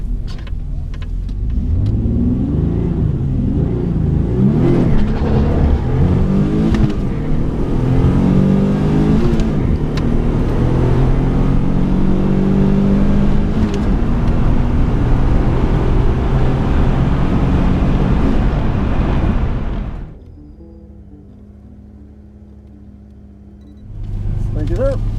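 A turbocharged 3.1 V6 Chevrolet Cavalier Z24 roars loudly and climbs through high revs as it accelerates hard down a drag strip, heard from inside the car, then drops abruptly to a low idle rumble before rising again.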